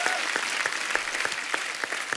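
Studio audience on a TV comedy talk show clapping, a quieter, even patter of applause heard alone for a couple of seconds.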